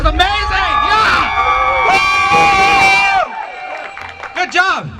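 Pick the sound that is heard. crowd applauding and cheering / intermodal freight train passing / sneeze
crowd applauding and cheering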